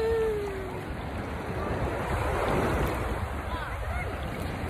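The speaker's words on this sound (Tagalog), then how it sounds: "Ayan pa, laki ng alon." Surf rolling in at a beach in Ajman, a steady broad wash of breaking ocean waves with a noisy, windy edge, heard close and continuous.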